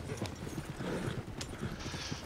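Horse hooves clip-clopping in a video game as a horse jumps near a moving wagon, a quick uneven run of hoof knocks close by over a dense rumbling game background.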